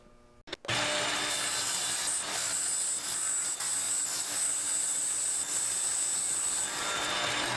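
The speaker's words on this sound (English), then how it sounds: "I can use the fence on the table saw, and I can rip this edge while it's aligned to my center line on the block" Table saw ripping along the edge of a glued block of colored pencils, a short start thump then a loud, steady whining cut held for several seconds, close up with no talking.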